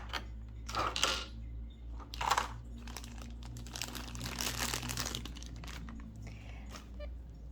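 Plastic wrap crinkling around a boxed toy puppet, close and quiet, with bursts of crackling and rustling over a low steady background hum.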